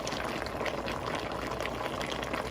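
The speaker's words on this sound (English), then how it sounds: "Bubbling." Liquid bubbles and boils in a pressure cooker holding oxtail for a Jamaican-style dish, a dense, steady churning and gurgling heard up close for the whole stretch.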